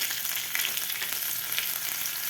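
Crushed garlic cloves and mustard seeds fry in hot oil over a low flame, giving a continuous, even crackling hiss close by with no voices.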